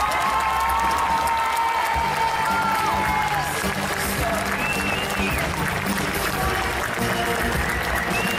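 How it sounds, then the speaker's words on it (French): A crowd at an indoor cosplay competition applauds a Game of Thrones cosplay group, dense and loud clapping with cheers running the whole time, mixed with voices and some music. "Je vous laisse faire un tonnerre d'applaudissements pour le Club des 5 avec le groupe Game"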